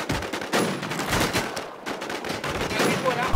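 Gunfire during a video game firefight, a continuous noisy barrage of shots and blasts filling the whole moment at steady loudness, with no clear gaps between reports.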